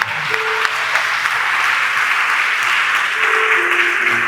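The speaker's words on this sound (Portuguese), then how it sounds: "Vamos aplaudir a Deus de pé, pelo amor de Deus." A standing church congregation applauds in a steady, dense wash of clapping with faint voices and a sustained tone underneath, continuing evenly throughout.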